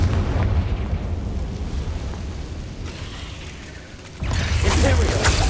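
Confringo fire spell blasts in the Hogwarts Legacy video game: a loud, sustained rumbling explosion that eases off midway, then bursts again sharply and near in the final second.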